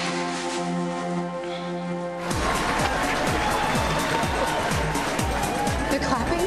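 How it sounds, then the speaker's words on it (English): Audience clapping at a performance begins abruptly after a quiet, tonal stretch, then continues as a dense, steady patter of many hands, moderately loud and sustained to the end. "They're clapping?"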